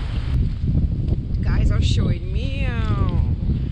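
Wind gusts buffet the microphone on a riverbank, a constant low rumble running beneath someone talking outdoors.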